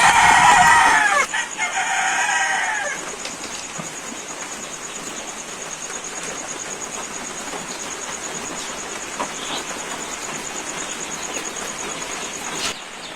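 Chickens cluck loudly and close by on a farm, with a rooster crowing near the start, then a steady flock murmur continues with fainter clucks throughout.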